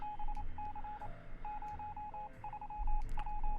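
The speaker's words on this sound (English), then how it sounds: "We hear it. Morse code. It's quite annoying." A radio in the survival game 60 Seconds Reatomized keys out a Morse code transmission: short and long steady beeps, close and clear, come in broken rhythmic bursts over a low hiss with a faint higher whine.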